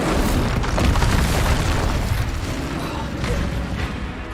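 The Incendio fire spell in Hogwarts Legacy bursts out as a loud, dense whooshing roar of flame mixed with rumbling game effects that continues for the whole stretch.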